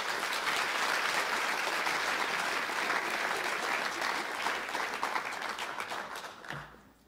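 Audience applauds a woman named Brigitte Hérault at a youth-futures plenary event, with a steady, dense roar of many clapping hands that runs for several seconds and then fades out near the end.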